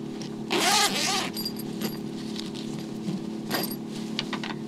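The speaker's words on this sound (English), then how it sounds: "You don't even have to fully unzip it." A zipper on a sushi chef's knife case is pulled open in one quick close rasp, followed by quieter handling sounds and a faint second zip against a steady background hum.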